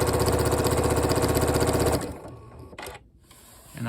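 A Janome M7 sewing machine stitches a quilt at a fast, steady whir for about two seconds, then stops, leaving quiet room noise with small clicks.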